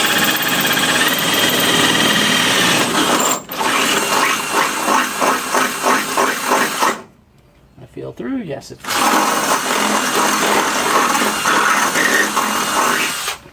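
A power drill whirs steadily through two layers of sheet metal for rivet nuts on a truck's fender flares, its pitch wavering under pressure, broken by a brief pause and a short exchange of speech before drilling resumes.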